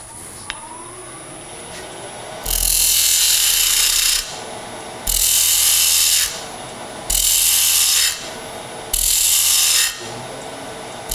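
A spindle gouge cuts found wood spinning on a lathe, making four loud, rough scraping bursts of about two seconds each, separated by quieter gaps with a steady motor hum underneath.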